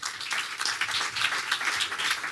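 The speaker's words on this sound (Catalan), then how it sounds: "Un fort aplaudiment." An audience applauds steadily at a forum event as a speaker on leadership and wellbeing takes the stage, with dense, even clapping that is sustained throughout.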